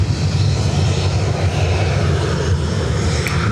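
Steady, loud jet engine roar from a 20-year-old Etihad Boeing 777-200 at Dublin Airport, a broad continuous rumble with no voices.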